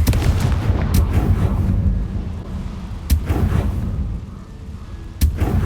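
In the Hogwarts Legacy video game, the Confringo fire spell blasts with several sharp booming impacts over rumbling, crackling fire and ambient noise.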